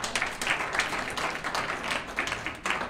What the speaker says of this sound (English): another round of applause for Sierra